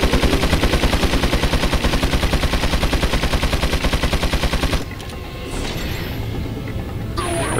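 Gunfire in Resident Evil 4 HD, a loud, fast machine-gun stream of evenly spaced shots hammering for about five seconds before cutting off into quieter ambient game noise.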